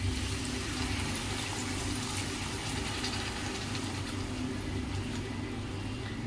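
Water is poured from a glass into a pan of sizzling masala while Bhoji-style fish kalia cooks, making a continuous splashing, hissing gush that holds steady throughout.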